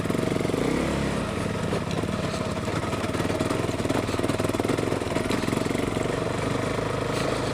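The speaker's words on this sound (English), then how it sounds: "Oh, it doesn't like second gear." A KTM 390 Adventure motorcycle engine lugs and strains in second gear on an off-road ride, a steady loud rumbling drone with rough pulsing throughout.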